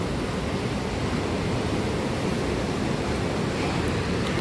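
Waves on a stormy sea roar in a constant, loud broadband wash against an eroding shoreline wall, with no pauses and no voices.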